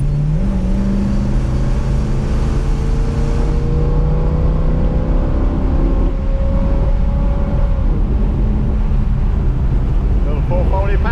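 Mopar 440 big block car driving at speed, a loud steady engine drone with a rising tone as it pulls, heard from inside under a voice.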